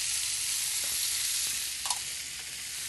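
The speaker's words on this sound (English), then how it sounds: "Now what we're gonna do with that is just saute them until they get a little bit soft" Artichoke hearts and mushrooms saute in a pan with a steady, close sizzle and frying hiss, plus a few faint stirring scrapes.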